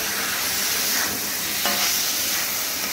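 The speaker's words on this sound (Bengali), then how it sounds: "একটু সামান্য নাড়াচাড়া করে মিশিয়ে নিলেই হবে।" Bottle gourd pre-boiled with salt and turmeric gets a brief stir in a hot pan for Punjabi lau doi, giving a steady close sizzle with one short scrape or clink partway through, and no talk.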